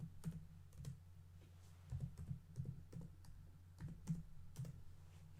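Soft clicking keystrokes as a password is entered on a computer keyboard at a Linux login, faint and close, coming in irregular short clusters over a low steady hum with no voices.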